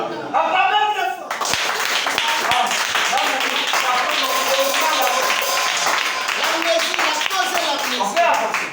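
A church congregation claps and applauds loudly and steadily for several seconds after a brief quieter opening, with voices and other sound mixed into the dense crowd noise.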